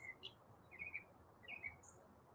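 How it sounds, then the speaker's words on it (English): Birds singing on a cold morning on a college campus, several short bright chirps and tweets in bursts over a quiet outdoor background, fairly faint and with nobody talking. "The birds are very loud this morning."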